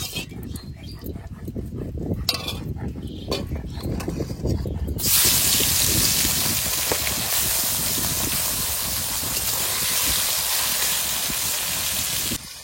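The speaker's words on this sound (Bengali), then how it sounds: "তেল গরম হয়ে গেছে, এবার মাছ দিয়ে দেবো।" Magur fish hits hot mustard oil in a wok over a wood fire, setting off a sudden loud, close hiss and spitting sizzle that holds steady after a few seconds of quieter knocks and clatter.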